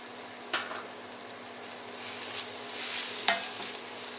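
Spice powders sautéed with raw mango in a pan for mango rice give a low, steady sizzle, with two sharp spoon-scrapes standing out from the stirring, close and moderately quiet.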